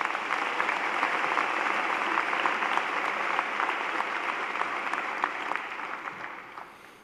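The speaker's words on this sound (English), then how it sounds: "So please give them a big round of applause." A large audience at a law school commencement ceremony applauds steadily, a dense wash of clapping that continues for several seconds before thinning out at the end.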